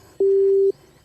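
A single steady phone tone sounds after a call is hung up, one clear beep lasting about half a second, loud and close against a quiet background.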